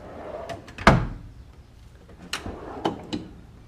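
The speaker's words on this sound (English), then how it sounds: "Shop vac drawer." A garage tool chest drawer slides open with a sharp thump, then more drawer slides and knocks follow, two or three closer clunks near the end.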